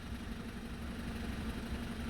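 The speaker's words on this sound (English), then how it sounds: "Engine doesn't seem noisy or anything, it seems okay. Seems to tick over fine." A BMW 318i, sold for spares or repairs, idles steadily with a low, even rumble and a faint tick. The sound is close and fairly quiet, with no revving and no talk.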